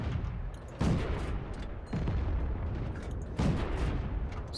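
Tank cannons fire during an online tank battle against a Valentine tank. Three heavy booms land about a second apart, each over a dense, continuous rumble of battle noise.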